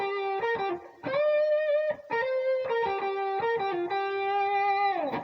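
Electric guitar lick with a minor third hammer-on into the fourth and bent notes, played as a clear, lightly overdriven phrase of short stabs and sustained bends, alone and close.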